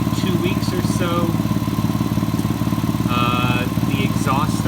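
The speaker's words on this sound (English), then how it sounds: "the exhaust started making this noise. I think it's a leak and or a crack in the manifold back here." A VW R32 MKIV idles with a suspected exhaust manifold leak or crack, giving a steady, loud, rhythmic ticking and puffing exhaust note that runs throughout, close to the engine bay.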